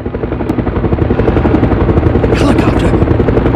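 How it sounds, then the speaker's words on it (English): Helicopter in the Resident Evil Survivor game, a loud rhythmic rotor chop pulsing steadily throughout, with a brief hissing burst partway through. "Helicopter!"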